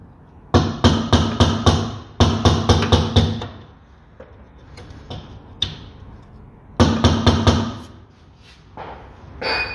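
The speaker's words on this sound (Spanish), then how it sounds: "Vale, meto la llave y le meto unos martillazos" Hammer blows on a wrench fitted over a brake line nut while swapping the brake master cylinder on a Seat Ibiza: three close, loud bursts of rapid metallic strikes, each a run of about six evenly spaced hits, with quieter clanks between.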